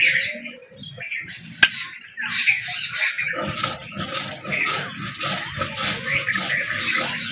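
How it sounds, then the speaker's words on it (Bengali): Coriander seeds are ground into paste on a stone grinding slab for a Bengali potato curry, with scraping, rhythmic rubbing strokes that start sparse and quiet, then become steady and loud, close up. "এক চামচ ধনে নিয়েছি বেটে নেব"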